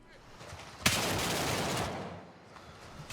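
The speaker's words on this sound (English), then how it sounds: "But in this case, the enemy saw me as well and opened fire" Enemy gunfire in the tactical shooter Gray Zone Warfare, a sudden burst of rapid automatic shots that starts sharply, rattles steadily for about a second, then fades, with another burst starting at the very end.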